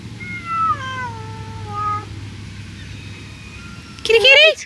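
A kitten meows in several drawn-out cries, the first long and wavering, then a shorter louder meow at the end, close to the microphone with faint background hum.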